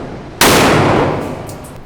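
A single close, loud shotgun blast firing a light birdshot load at a cardboard target outdoors, a sharp crack followed by a long fading rumble.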